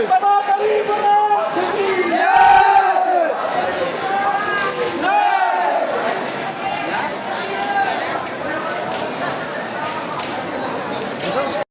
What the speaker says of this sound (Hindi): तो देख सकते हैं फ्रेंड्स सभी बाबा गरीबनाथ का जयकारा लगा रहे हैं।